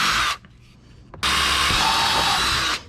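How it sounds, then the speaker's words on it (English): A power drill bores holes underneath a Mustang to fit a Roush foil kit, two loud sustained whining bursts separated by a short pause. "Now we could get our drill here, and simple enough, go underneath, and where the two holes are, we are just going to drill them out."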